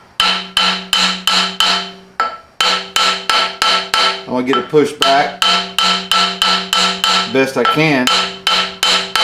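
A brass hammer taps repeatedly on the edge of a machined flywheel during an MGA clutch install, a close run of sharp ringing metallic strikes in quick rhythm, briefly pausing, with someone talking through the middle.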